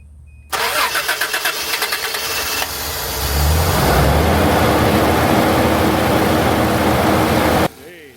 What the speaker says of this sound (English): we're going to try to turn her on. See if she starts.